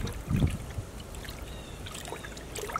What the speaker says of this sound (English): I keep dunking it and pulling it out.